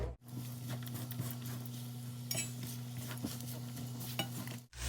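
Chopped dates and figs are roasted in a pan until soft. A spoon stirs them with faint, repeated scraping and light taps over a steady low hum.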